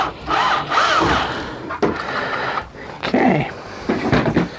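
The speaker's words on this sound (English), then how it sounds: "Go straight through the one side, keeping the drill as straight as possible." A power drill bores straight through one side of a metal rover chassis piece on a workbench, several loud grinding bursts with short pauses between them, close up.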